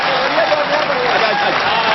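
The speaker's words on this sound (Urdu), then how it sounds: "تالیوں سے استقبال کیجیے ڈاکٹر راحت اندوری کا، زوردار تالیوں سے۔" An audience at a mushaira, an Urdu poetry gathering, breaks into loud, dense applause to welcome the poet Dr. Rahat Indori, with the clapping steady and close throughout.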